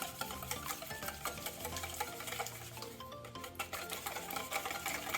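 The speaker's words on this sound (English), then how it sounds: "Whisk it to incorporate all the ingredients." Whisk stirring honey, soy sauce and mirin in a bowl, a steady run of light scraping and clinking strokes that carries on close by for several seconds with no talking.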